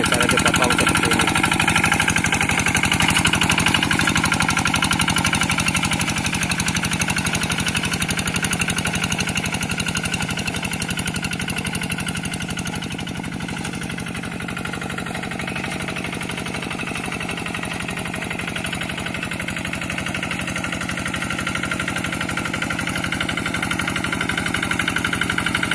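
A paddy field tractor engine running steadily while working the soil, a loud continuous mechanical drone with a slight dip in level midway and no break.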